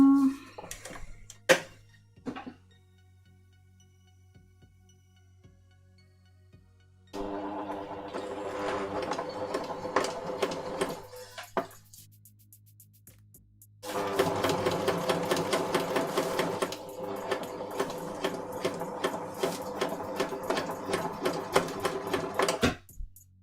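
Sewing machine stitching a pin-tuck shirt seam: a rapid rhythmic mechanical clatter in two long bursts after quieter pauses, close and fairly loud over a low steady hum.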